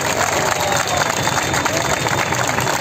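An audience at a political speech breaks into dense, continuous applause mixed with crowd noise and shouts, loud and sustained throughout.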